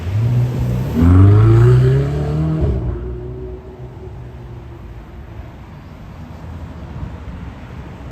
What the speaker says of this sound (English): here's a Ferrari